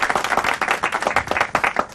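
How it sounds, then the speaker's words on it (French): Studio audience applause for three quiz show contestants, a brisk, close burst of many hands clapping in uneven surges for two seconds, with no talking over it. "Ils sont applaudis."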